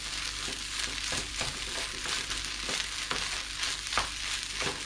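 Green onions with yellow and red peppers stir-frying for egg fried rice, a dense continuous sizzle with rhythmic scraping strokes of a spatula every second or so, close and steady without speech.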